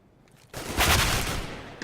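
Counter-Strike gunfire from an esports qualifier match at the DreamHack European Minor: after a quiet moment, a loud, dense burst of rapid shots rings out for over a second, then fades, followed by one last sharp crack.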